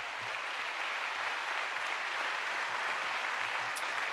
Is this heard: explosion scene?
no